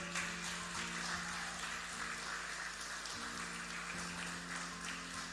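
A church congregation at a Spanish-language congress applauds the Lord, a soft, steady, distant wash of clapping with a faint sustained hum beneath it.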